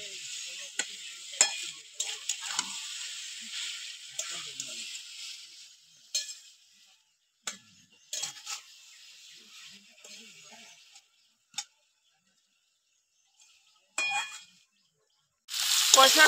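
Fried potatoes stirred into a boneless chicken curry sizzle steadily in the pan, broken by scraping stirs and light clinks, then fade to near quiet before a fresh loud burst of frying at the end.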